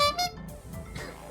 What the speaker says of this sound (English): I just wish this sound was just one honk. I don't need two of them.